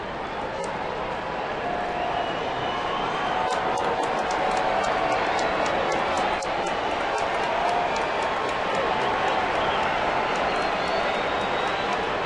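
A baseball stadium crowd during a Yankees–Mariners game keeps up a steady, continuous roar and murmur with scattered claps and shouts, loud and sustained throughout.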